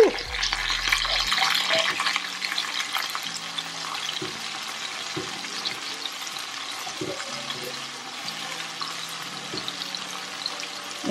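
Steady crackling sizzle of chicken frying in a pan, continuous and fairly close, with occasional clicks and clatters of utensils.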